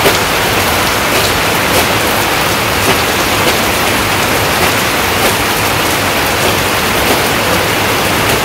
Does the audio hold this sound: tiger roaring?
no